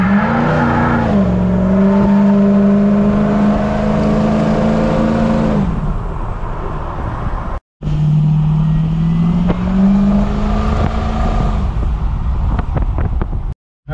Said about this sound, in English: there's the acceleration from a dead stop,